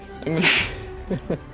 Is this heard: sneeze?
yes